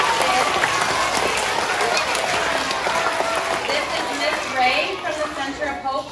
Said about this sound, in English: So let's give first grade a round of applause.